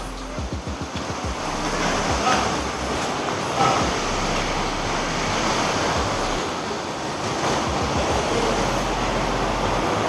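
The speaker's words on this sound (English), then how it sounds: "They have a water fountain." Splashing water from an outdoor fountain at Suntec City mall in Singapore, a steady broadband wash with faint rumbling pulses early on, close and continuous with no talk.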